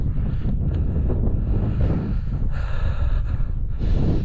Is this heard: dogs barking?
no